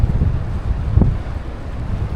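Wind buffets the microphone on the seafront at Santa Cruz, Madeira, a loud gusty low rumble throughout with one sharper thump partway through.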